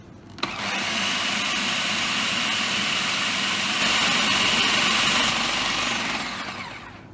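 A blender runs on high speed, blending basil pesto with olive oil: a loud, steady motor whir that starts abruptly, holds for several seconds, grows slightly louder near the end, then begins to wind down.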